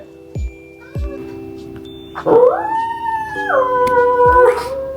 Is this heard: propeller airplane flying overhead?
no